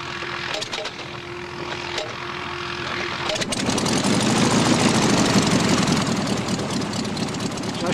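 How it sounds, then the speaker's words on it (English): Tipsy Nipper ultralight aircraft from 1969 with a modified fuel-injected VW Beetle engine, idling with a few clicks before the engine note swells into a steady, louder drone that holds close to the end. "A modified VW Beetle engine, but it's modified to be fuel injected"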